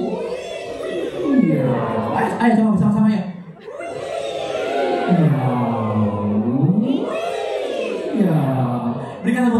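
A crowd at a public speaking event mimics a siren together as a vocal warm-up, voices sliding up and down in long wailing glides, with a speaker's voice joining in.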